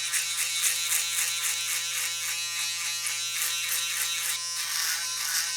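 An electric shaver buzzes continuously and close up as it cuts through hair during a low fade on a wavy haircut, with a steady, even drone throughout.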